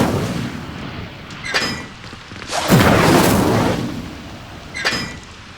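Incendio fire spells cast in Hogwarts Legacy burst out as whooshing flame blasts, a short flare, a longer roaring gust in the middle and another brief burst near the end, each rising and fading.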